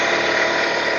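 An air compressor runs beside an old Coats tire machine, giving a steady, loud, even motor drone for about a second with no talking.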